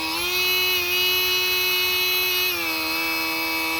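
Electric air pump inflating a mattress, a loud steady motor whine with a constant high-pitched drone that drops slightly in pitch partway through, heard alone.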